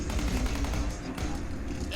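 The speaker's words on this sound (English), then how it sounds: "Automatic assault rifle." Automatic assault rifle fire in Fallout 4 rattles in a rapid, steady stream of shots, continuous and fairly loud, with a voice talking faintly over it.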